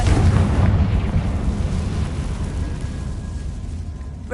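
A Confringo fire spell in Hogwarts Legacy erupts in a loud, rumbling blast that rolls on as a continuous low roar for several seconds, slowly tapering off with no voices over it.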